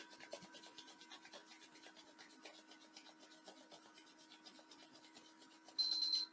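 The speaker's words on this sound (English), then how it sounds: "We'll bring our hands together and rub them to make them warm." Palms rubbing briskly together to warm the hands in a group movement class, a quiet steady rasping shuffle repeating in fast strokes, with soft background music underneath.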